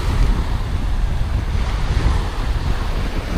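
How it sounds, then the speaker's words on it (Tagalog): Strong wind buffets loudly and continuously, roaring over what sounds like open water and surf at sea near a fishing boat, with no voices. "Dumagsa ang hangin ngayon."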